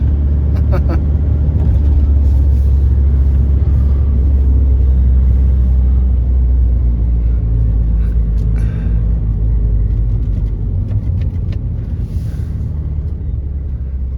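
Diesel engine of a cheap VW Beetle TDI idles and rumbles steadily up close, a continuous low-pitched drone with faint clicks and rattles on top.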